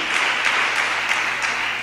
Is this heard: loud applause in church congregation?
yes